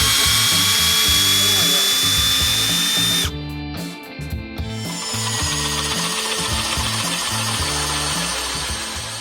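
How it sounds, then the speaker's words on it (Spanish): A power drill with a hole saw bores diagonally into a wooden beam, a loud close grinding whine with rhythmic chattering, briefly easing off midway before cutting on steadily to the end. "Le metí una corona en diagonal a la viga de madera y fijaros cómo se la comió."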